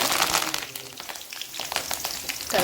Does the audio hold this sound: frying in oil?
yes